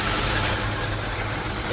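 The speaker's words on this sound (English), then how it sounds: "another thing I noticed here when starting the car is this terrible squealing noise" A worn drive belt on a starting car gives off a steady high-pitched squeal over the engine's low idle rumble, continuous and close.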